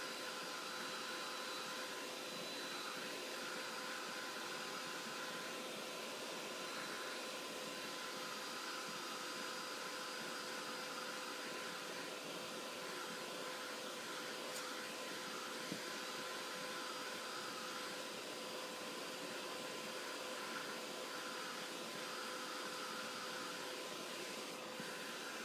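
A blow dryer drying wet specialty stamping paper for a woodgrain background runs continuously with a steady, even whine and airy rush at a constant level throughout.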